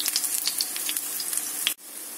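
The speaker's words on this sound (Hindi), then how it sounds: "और अब इसको हम लोग दोनों तरफ से गोल्डन कलर होने तक फ्राई कर देंगे।" Aloo tikki sizzle steadily in peanut oil and ghee with close, crackling spatters, then the frying cuts off abruptly near the end.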